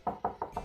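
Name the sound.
knocking sound effect on van windows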